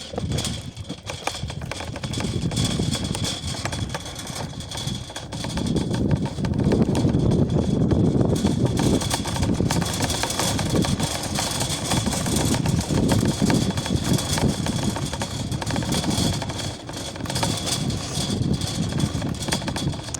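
Riding a charged electric scooter on a trip into town produces a constant rush of wind noise and a low hum. The sound swells and dips slightly over about twenty seconds, with no talking.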